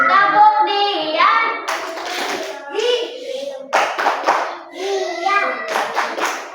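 Children clap their hands in a classroom in bursts between the children's and teacher's speech, several close group claps forming short rhythmic clusters.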